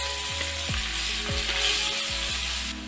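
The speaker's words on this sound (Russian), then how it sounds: "В это же масло, где жарилась курица, я выкладываю нарезанный репчатый лук." Sliced onions sizzle steadily in hot oil left from frying chicken, a loud continuous crackling hiss throughout, with no talking.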